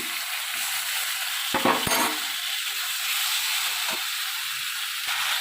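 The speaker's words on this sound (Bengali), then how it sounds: "সেই সবজিগুলো আমি কড়ার মধ্যে দিয়ে ভালো করে কষে নেব" Boiled vegetables being stir-fried in a kadai give a steady, close sizzling hiss, with a brief burst of spatula clatter and scraping near the middle and a few faint knocks later.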